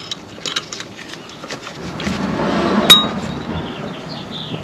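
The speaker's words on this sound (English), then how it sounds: "I'm going to go ahead and put that clip back in." A metal brake pad clip is fitted back into a motorcycle front brake caliper, producing a few light metallic clinks and taps with one sharper click, close up amid faint handling noise.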